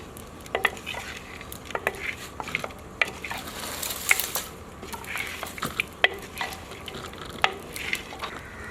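Beef being mixed with spices in a pot: close, irregular scraping and clinks of a spoon against metal over a faint sizzle, with no talking.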